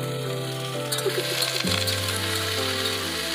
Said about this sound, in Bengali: পেঁয়াজ কাঁচা লঙ্কা ভাজা হয়ে গেলে আলু দিয়ে কিছুক্ষণ ভেজে নেব।